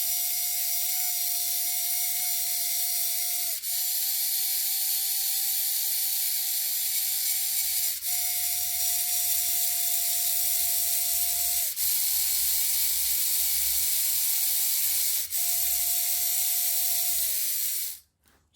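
A geared DC motor converted from a broken metal gear servo whirs steadily with a high gear whine, its pitch dipping with a brief click about every four seconds, then cutting off abruptly at the end.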